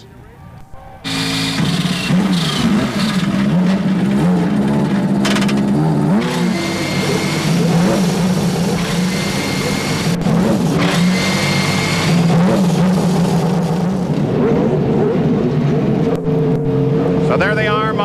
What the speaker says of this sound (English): we are ready for all 28 Indy cars to accept that command to start their engines